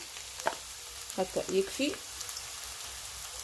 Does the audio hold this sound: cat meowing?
no